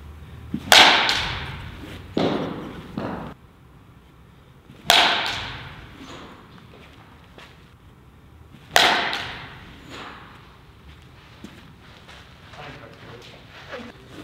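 A USA Pure baseball bat strikes balls with a few sharp, loud hits spaced several seconds apart. Each hit trails off quickly, with quieter background noise between them.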